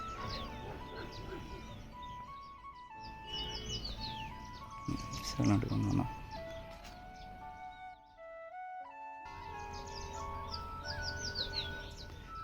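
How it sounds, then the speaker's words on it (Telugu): Sparrows chirp and twitter near the Bhairav temple in Ukhimath, with many small bright calls scattered throughout at moderate distance, mixed with other background sounds and a person speaking. "ఇక్కడ పిచ్చుకలు ఇవి ఎంత వెరైటీగా ఉండేది చూసారా"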